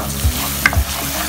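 Onions and minced mutton frying with ginger garlic paste in a pan for keema curry, a close, steady sizzle with a few soft stirring scrapes of a spoon.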